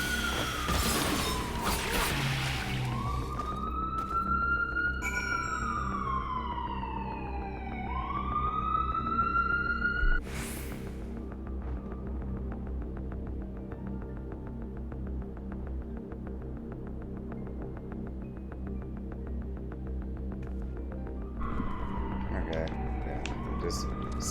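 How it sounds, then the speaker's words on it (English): City sirens wailing outside, several rising and falling sweeps over a steady low throbbing hum, moderately loud and somewhat distant, with a sharp crash midway and a voice talking now and then. "just sounds of the city, sirens and so forth"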